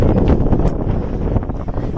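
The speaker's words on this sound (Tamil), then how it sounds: "என்னங்க இங்கே இவ்வளோ காற்றடிக்குது?" Strong wind buffets the microphone at the Nilavoor hilltop viewpoint in Yelagiri, a loud, continuous low roar with gusting surges throughout.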